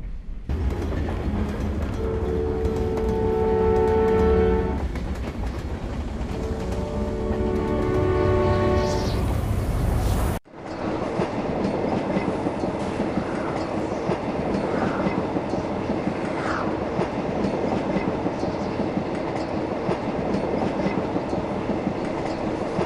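A train rolls along rails in The Polar Express video game, with a loud continuous rumble, tonal horn-like bursts early on, then a sharp cut to steady clattering wheel noise with occasional squeals.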